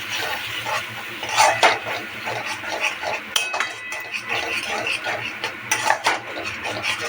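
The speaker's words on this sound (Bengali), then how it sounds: "কাশ্মীরি মির্চি দিয়ে এটাকে আমি নাড়াচাড়া করবো।" Spoon scraping and clinking in a pan as fish curry with cauliflower and Kashmiri chili is stirred, with irregular metallic taps and clatter over a steady low kitchen hum, close and moderately loud.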